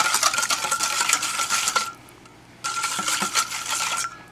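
A spoon stirs a spicy ginger marinade for salmon in a bowl, giving close, continuous clinking and scraping strokes with a brief pause in the middle before the mixing resumes.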